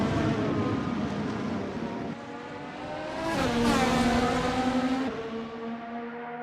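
Race cars lapping the Suzuka circuit, a high-pitched engine whine that drops while braking and then rises hard on acceleration as a car sweeps closer and louder, fading again at the end, no talk.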